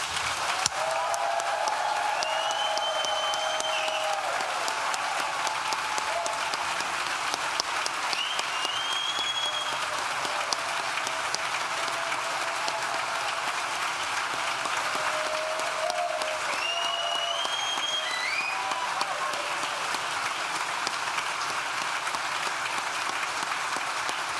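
A large audience at a Nottingham Business School graduation ceremony claps loudly and continuously, a dense sustained applause with faint whistles or cheers rising above it now and then.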